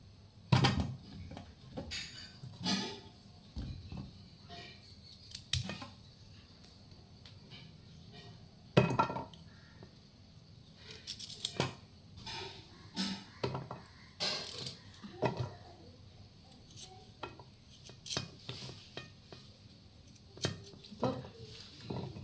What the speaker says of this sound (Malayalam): വേഗം ഒന്ന് അരിയട്ടെ കേട്ടോ ഇത് ഉച്ചത്തേക്ക് കേബേജ് തോരൻ ഉണ്ടാക്കാൻ വേണ്ടിയിട്ട് അരിഞ്ഞു വെച്ച കേബേജ്